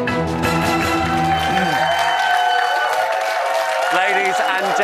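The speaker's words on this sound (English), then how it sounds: "please keep that applause going" Studio audience applauding and cheering on a Big Brother UK Bit On The Side episode, loud sustained clapping under a host's amplified voice and music.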